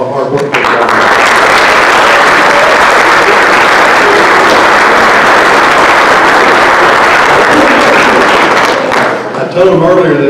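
A banquet crowd at the 2020 Pickens County, Georgia STAR Banquet gives Beta Club members loud, sustained applause, a dense wash of clapping lasting about nine seconds before it cuts off and a few voices follow.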